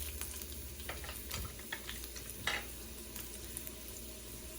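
Mustard seeds dropped into hot oil for a Hyderabadi meat pickle, giving a steady low crackling sizzle throughout with a few faint ticks and a soft pop partway through.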